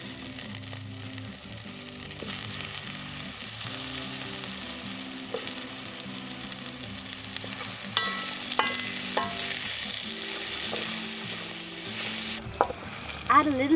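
Potatoes and pork fry in a pan for Wak Laisac with mustard greens, a steady loud sizzle throughout, with utensil stirring scrapes and clinks near the end and background music underneath.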